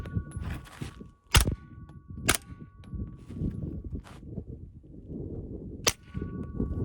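A suppressed Smith & Wesson 9mm FPC carbine fires subsonic rounds: three sharp, close cracks, each with a metallic twang from the noisy action, separated by low handling rustle and clatter.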